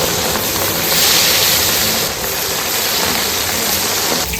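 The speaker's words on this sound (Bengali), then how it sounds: "তেল গরম হয়ে গেছে, মাছগুলো দিয়ে নিচ্ছি।" Fish sizzling in hot mustard oil in a wok, a loud, dense, steady frying hiss close up that swells slightly early on and continues without pause.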